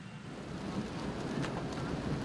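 Heavy rain pours steadily over Quezon City at night, a dense, even hiss with a low rumbling wash beneath it, continuous and fairly close, with no voices.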